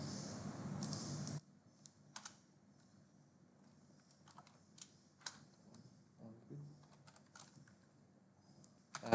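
Code being typed on a computer keyboard, quiet scattered key clicks in short irregular bursts with pauses between, close up against a hushed background.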